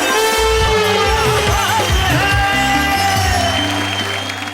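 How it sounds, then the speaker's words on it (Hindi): Audience at a Hindi poetry gathering greets a poet arriving on stage with loud, sustained applause and some shouts, while music plays underneath and the noise eases slightly toward the end. "आइए जोरदार तालियों के साथ"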